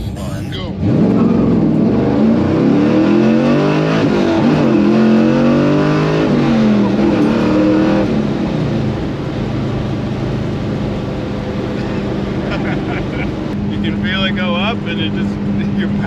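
An LS3-swapped Chevelle on street tires accelerates hard in a launched pull, its V8 roaring loud and close with rising revs through a gear change, then holding a steady drone; a voice speaks briefly over the engine.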